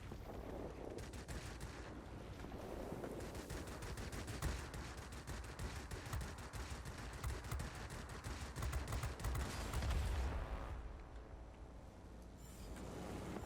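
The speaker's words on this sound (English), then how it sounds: "These 23mm cannons do not overheat ever, it looks like." Rapid 23mm cannon fire from an IL-1 ground-attack plane in the video game World of Warplanes: long, fast, rattling bursts of shots, dense and sustained, heard over a faint background drone.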